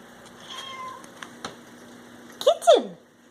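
A kitten gives two short, high squeaky chirps close by, after a few faint soft clicks and rustles in a quiet room.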